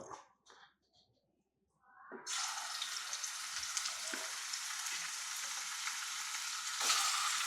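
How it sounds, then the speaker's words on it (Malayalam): Chicken pieces drop into hot oil on a full flame and burst into a loud, steady deep-fry sizzle after a brief quiet stretch with faint handling noises, the hiss swelling once more near the end. "ചിക്കൻ വറുത്തിട്ട് ഇടാം അപ്പോൾ നമുക്ക് വറക്കാൻ വേണ്ടി നമ്മൾ അടുപ്പത്ത് എണ്ണ വെച്ചിട്ടുണ്ട് ഇനി നമുക്ക് ഓരോന്ന് എടുത്തിടാം"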